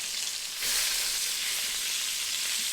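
Pot roast sizzling loudly in a hot pan just after being flipped, a steady close frying hiss that swells slightly as the meat lands and continues without talk.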